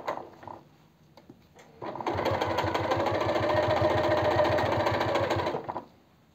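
A sewing machine stitches knit fabric for women's trousers, running in one fast, steady rhythmic burst of several seconds after a few quiet handling clicks, then stopping.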